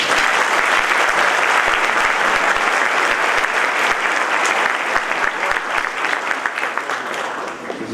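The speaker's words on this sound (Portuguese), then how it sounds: "aplaudindo a Deus pela sua vida." Loud, sustained applause from a church convention assembly fills the clip, dense clapping running steadily throughout with no talk over it.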